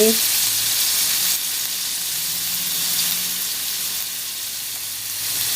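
Enoki mushrooms with shrimp and pork hiss in a steady, loud sizzle as oyster sauce goes into the stir-fry, a continuous frying crackle with no talking.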